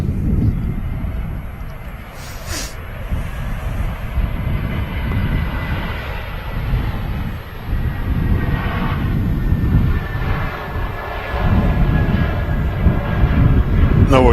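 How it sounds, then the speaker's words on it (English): An Air Transat A321neo from Canada touches down at Manchester Airport, heard as a loud, sustained low engine roar and rumble that swells and holds for the whole stretch with no break. "we do have the Air Transat A321neo touching down."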